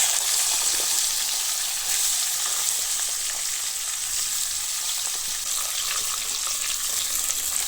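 Vegetables for shukto fry with a five-spice tempering, giving a dense, even hiss of hot oil that holds steady for several seconds. The sizzle sounds close and there is no talking.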